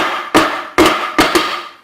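A Harbor Freight air palm nailer driving a 2-inch nail into wood, three sharp, loud metallic impacts in quick succession, each ringing briefly before the next, heard close with no talking.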